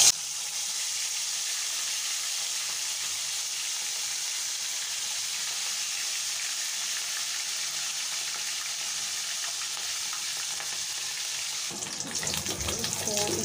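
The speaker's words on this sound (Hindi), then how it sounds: "इसको हम डीप फ्राई करेंगे" Beef pieces deep frying in hot oil make a steady, loud sizzle and crackle that holds for most of the span, shifting to rougher bubbling and clatter near the end.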